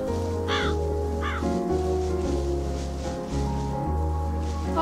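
A raven caws twice in the game Calico, harsh and fairly close, over a steady hum of ambient game music with soft rustling underneath.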